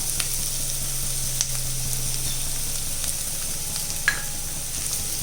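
Chicken sizzling as it goes into a frying pan over spice powders for Malayalam-style fried chicken rice, a steady bright hiss of hot oil with a few faint clinks, no voices.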